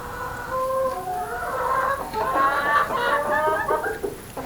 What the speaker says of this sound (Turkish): horozlarımızın son hali.